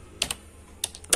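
A computer keyboard being typed on while setting up ID card printing on a Canon iP2770 printer: several quick, close clicks of key presses arrive in two small clusters, crisp and isolated against a quiet background.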